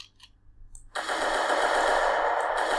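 Bullet impacts from an Unreal Engine 4 game: a couple of faint ticks, then a sudden loud, dense burst of rapid automatic fire that continues steadily.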